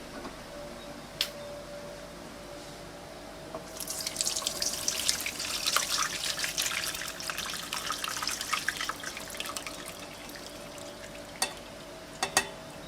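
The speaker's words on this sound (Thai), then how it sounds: "เดี๋ยวเราจะกรองกันค่ะ" Boiled butterfly pea flower water being poured through a strainer, a steady splashing trickle for several seconds, then a few isolated drips and clinks afterward.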